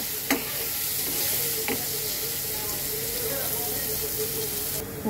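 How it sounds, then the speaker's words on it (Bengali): Onions sizzle steadily in a frying pan, close and continuous, with a couple of brief clinks of stirring. "পেঁয়াজটাকে আমি আগে ভাজি"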